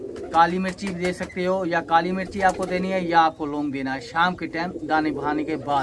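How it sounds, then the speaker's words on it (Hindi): Pet pigeons coo steadily in soft, rolling, repeated calls close by, mixed under someone talking continuously. "क्योंकि इस तरह से कबूतर गुड़कते रहेंगे।"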